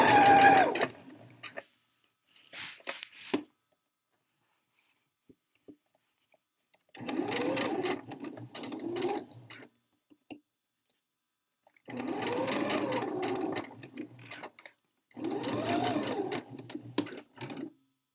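A sewing machine stitches a skirt seam in short bursts, each run a fast, even mechanical whirr, separated by pauses of near silence, close and clear with no talking.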